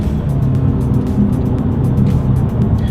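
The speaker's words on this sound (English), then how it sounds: "let's go ahead and do a quick little paddle shifter test, and let's see how quickly they react for us here" A 2020 Nissan Altima with a CVT runs steadily through a paddle-shifter test, its engine giving a constant loud low drone and rumble with little change across the three seconds and no voices.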